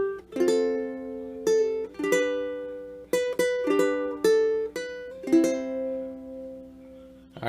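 Fingerpicked ukulele playing the short intro melody of the Filipino song Bahay Kubo, clear plucked notes in a gentle, unhurried rhythm that ring out and decay between each pick, heard alone and close.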